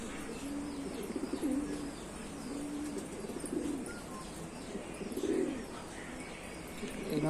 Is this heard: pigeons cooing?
yes